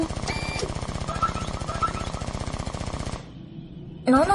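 Sustained rapid 7.62mm machine gun fire in an anime battle scene, a dense loud unbroken burst of rattling shots lasting about three seconds, cutting off abruptly, followed by a quieter pause and a sudden louder noise at the end.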